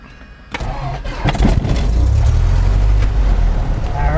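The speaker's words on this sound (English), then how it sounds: "I heard it's an engine." A Cessna 172 piston aircraft engine cranks with a few uneven bursts, then catches and settles into a loud, steady low-pitched running drone close by.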